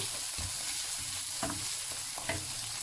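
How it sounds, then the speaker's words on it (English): King prawns sizzle steadily in hot olive oil, a dense continuous frying crackle with occasional louder pops and stirring scrapes, close and alone with no voices. "It's frying with olive oil, eh?"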